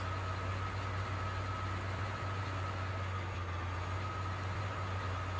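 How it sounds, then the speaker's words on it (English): A Scorpion forestry vehicle's engine in Farming Simulator 2015 drones steadily at a constant low hum, a powerful, unchanging machine rumble with no other sounds. "I love the sound, engine sound of this thing."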